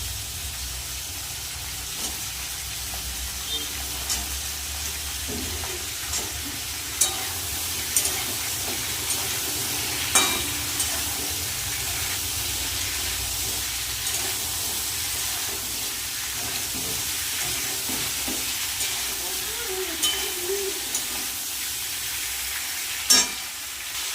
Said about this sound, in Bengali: সবজিটা একটু ভেজে নেবো এবার দিয়ে দেবো কেটে রাখা ঝিঙেটা